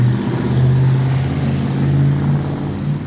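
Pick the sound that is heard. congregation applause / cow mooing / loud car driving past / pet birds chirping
loud car driving past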